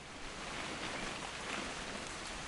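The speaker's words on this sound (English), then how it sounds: "It's gonna rain the whole weekend, isn't it?" Steady rain in the video game What Remains of Edith Finch, a dense even hiss of falling drops with no voices, continuous and fairly soft throughout.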